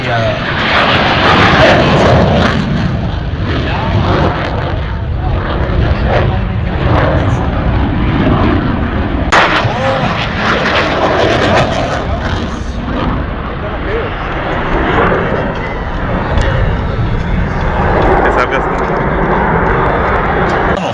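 Navy aircraft flying past at an airshow, a loud continuous engine roar that swells and shifts over the whole stretch, with commentary heard over it.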